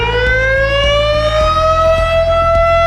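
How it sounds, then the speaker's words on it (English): Loud industrial plant emergency alert siren wailing close by, its steady tone slowly rising in pitch, with a rhythmic low thumping underneath. "In the plant, the emergency alert plant siren will sound."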